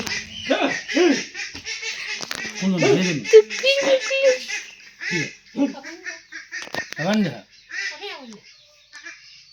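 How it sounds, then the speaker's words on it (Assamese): A domestic household duck quacks repeatedly in loud, close, honking bursts that come in an irregular series, with other lively voices mixed in. "চিঞৰি থকাটো ঘৰৰে হাঁহ"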